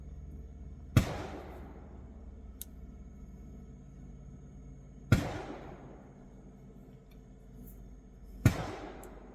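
Gunshots at a campground in Canada: three sharp reports spaced a few seconds apart, each a sudden crack with a short echoing tail, standing out against a quiet outdoor background with faint clicks between them.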